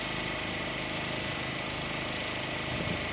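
The engine of a Kubota SMZ95 compact tractor runs steadily at close range as it drives off, a constant droning rumble with no pauses or voices.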